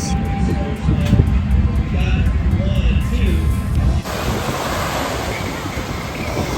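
Waves washing onto the Lake Michigan shoreline during a day of boat races, a steady broadband surf wash mixed with wind buffeting the microphone, with voices faintly in the background.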